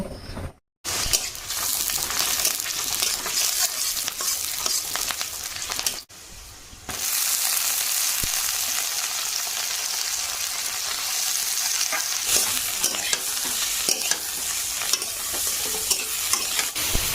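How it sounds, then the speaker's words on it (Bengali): Potatoes fry in oil for a soybean and potato curry, a loud, steady hiss of sizzling close up with constant stirring, a short dip after a few seconds, then crackling on without pause. "সয়াবিন আলু করব, তার জন্য আলুটা ফার্স্টে ভেজে নিচ্ছি"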